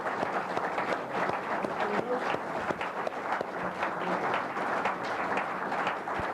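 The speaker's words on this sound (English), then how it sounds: "How about one round of applause for Milton Berle" Dense applause from a large crowd, steady and sustained throughout.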